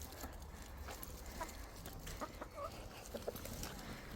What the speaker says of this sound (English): Here's my chickens.